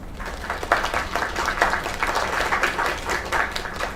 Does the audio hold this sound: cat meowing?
no